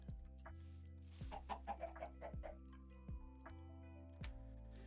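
A chicken in the Minecraft video game clucks in a quick run of short, quiet bursts, with soft ticking sounds and low game noise around it and no voices.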